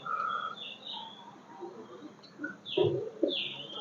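Pigeons at a home loft with freshly hatched eggs give a few soft, low coos, with short calls standing out near the end over a faint, steady background hum.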